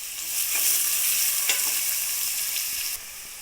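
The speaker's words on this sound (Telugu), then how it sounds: "ఈ ఉల్లిపాయ ముక్కలు వేగనిద్దాము" Onion pieces frying in a pan for chicken curry give a loud, steady hiss and sizzle with occasional crackles, close and continuous, with no talking.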